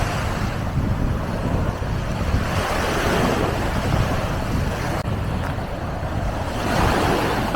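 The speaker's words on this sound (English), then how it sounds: "Whew, that breeze is whipping. Can you hear that?" Strong winter breeze whipping across a Baltic Sea beach in Tallinn, a steady loud rush of wind buffeting the microphone, with surf washing in beneath and gusts swelling near the end.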